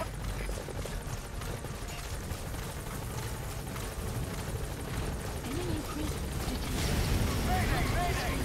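A helicopter in the stealth action game Metal Gear Solid V: The Phantom Pain drones steadily at a landing zone, with a dense, rumbling rotor noise that swells toward the end and an in-game voice faintly mixed in.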